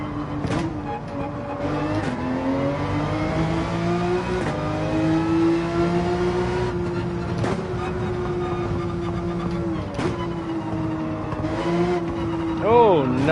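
Race car engine droning and shifting pitch through laps in Gran Turismo 7, with sudden throttle lifts and brief revving spikes, while a person talks over the game audio throughout.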